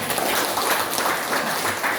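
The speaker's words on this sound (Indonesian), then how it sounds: "Tepuk tangan semuanya." Students in a classroom clap together in a brief, steady round of applause, a close, even patter of many hands.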